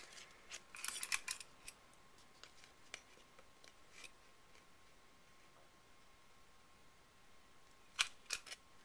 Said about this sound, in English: center my CropaDile right on that hole and punch through my pattern paper and my cardstock